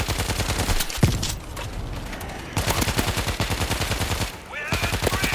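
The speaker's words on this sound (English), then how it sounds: "Machine gun is ready." Rapid machine gun fire in the zombie shooter World War Z, loud, dense bursts of repeated shots with a brief pause around the middle and near the end.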